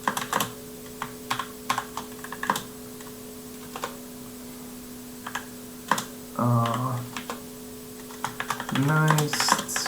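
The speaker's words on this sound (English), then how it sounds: "Then we type in the name." Computer keyboard typing in short bursts of clicky keystrokes, fairly close and alone, with a brief voice or hum passing in the background near the end.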